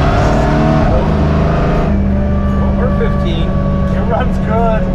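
A supercharged rat rod wrecker engine fitted with a Whipple 325 pulley runs on a dyno, a loud steady roar with harmonic whine and a slight pitch shift, with voices talking over it.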